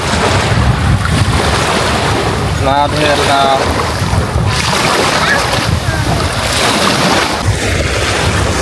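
Sea water on a shallow Sunny Beach shoreline in Bulgaria, heard as a continuous wash of surf largely buried under loud wind buffeting, with people talking briefly over it.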